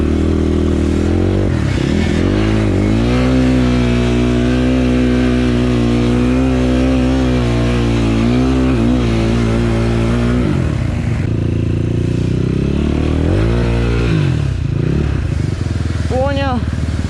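Enduro motorcycle engine at an off-road enduro event, started and revved hard with rising and falling pitch, loud and close, while people talk nearby.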